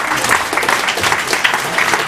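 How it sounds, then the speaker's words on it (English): An audience applauds a conference panel in a dense, steady burst of clapping that is loud and close throughout. "could you give a final round of applause?"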